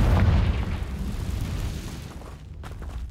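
A Confringo fire spell detonating in Hogwarts Legacy, a booming blast that rolls out into a fading rumble and dies away near the end.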